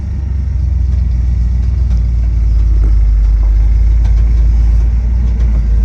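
Chevy engine with throttle body injection idling in a car that is slowly backing up, giving a steady, close, low rumble with no talk.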